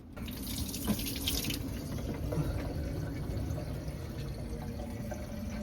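Tap water runs steadily into containers aboard a boat, filling about 40 liters, a continuous nearby gushing that holds at an even level throughout, with a brighter hiss in the first second or so.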